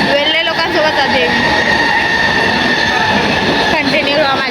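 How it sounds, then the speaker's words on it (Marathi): Steady rumble and rattling from inside a moving passenger train on a Konkan journey, with wheel clatter and faint squeals throughout and people talking over the noise. "तो गाईज आम्ही लोक ट्रेनमध्ये बसलोय."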